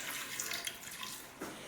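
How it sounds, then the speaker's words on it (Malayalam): Water pours from a tap into a pot of cut vegetables being readied for boiling while making masala dosa, a faint steady splashing stream with a brief louder gush near the end. "ഇതിലേക്ക് ആവശ്യമുള്ള വെള്ളം ഒഴിച്ച് കൊടുക്കുക"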